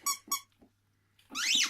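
A dog chews a squeaky toy, giving two sharp squeaks, a soft thud, a pause and then one long, rising and falling squeal from the toy, close up, with no talk.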